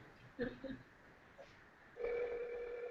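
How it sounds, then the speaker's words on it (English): A telephone rings with a steady electronic tone after a few faint clicks, quiet and somewhat distant. "I hear ringing."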